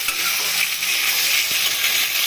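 Diced potatoes, about two-thirds fried, sizzle loudly in a hot pan as chopped tomato goes in, a steady hissing fry with a few soft clinks of utensil against metal, no voices.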